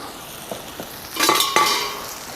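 Wilted cabbage and onions tossed in oil in a pan, with a couple of soft scrapes and then two louder sizzling, clattering tosses close by, brief and without talk.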